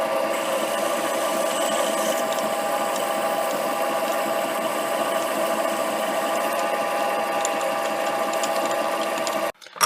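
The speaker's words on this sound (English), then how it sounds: "Now I'll drill through with our tap drill" A 5mm tap drill bores through metal on a lathe, giving a steady, even mechanical whir with a higher whine on top that holds for several seconds before stopping abruptly at the end.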